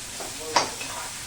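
Chopped garlic and coriander drop into hot tempering oil, giving a brief burst of sizzle with a stirring scrape over a low steady hiss.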